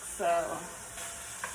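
Soft steady sizzling of andouille sausage frying in a pan, close by, with a brief word spoken over it.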